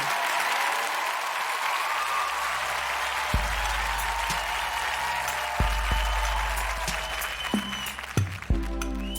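A television studio audience applauds the singer, a steady wash of many hands clapping throughout, with a few thumps and low tones near the end.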